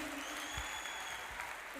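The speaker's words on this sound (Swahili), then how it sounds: "Si basi tena tuwapigie makofi mazuri." Faint, steady audience applause at a gathering with a bishop and a reverend, a soft continuous patter of clapping that holds evenly throughout with no pauses.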